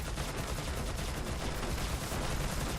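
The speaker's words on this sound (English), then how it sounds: "these shotgun towers are getting it now" Shotgun towers firing in the Colony Siege tower defense game, a dense, continuous barrage of loud overlapping blasts with no pauses.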